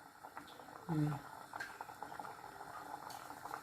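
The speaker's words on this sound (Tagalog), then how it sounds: "Kumukulo-kulo na siya, guys." Soft bubbling of a pot of champorado (chocolate rice porridge) simmering, close and low, with a quiet voice murmuring briefly over the gentle burble.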